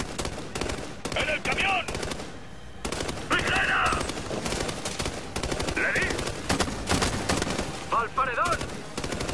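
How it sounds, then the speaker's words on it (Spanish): Bursts of automatic gunfire from the video game Ghost Recon Future Soldier, rapid loud volleys in several clusters with brief pauses, mixed with game effects and occasional voices. "Oye, está disparando a lo loco"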